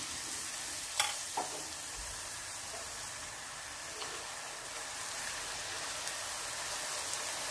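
Pakkavada batter frying in hot oil, a dense steady sizzle like rain on a surface with a couple of faint utensil taps near the start.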